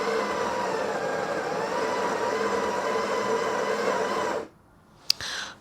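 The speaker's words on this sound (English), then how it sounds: "So it looks like the grinder is working okay." The built-in grinder of a Breville 870XL espresso machine runs with a steady, loud whirring hum for about four seconds, then stops abruptly and is followed by a single click.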